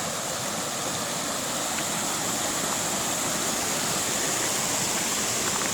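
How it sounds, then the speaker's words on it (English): A creek in Hells Canyon rushes steadily nearby, its dense, continuous water noise loud and unbroken with no voices. "Oh, this creek again."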